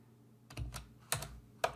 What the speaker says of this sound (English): So if I type in business,